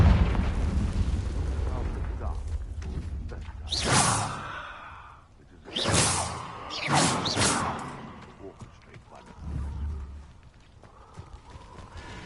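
A Confringo blasting spell from Hogwarts Legacy goes off in a few loud bursts, each a broad whooshing blast with crackling tails, rising over a low ambient rumble with no talk.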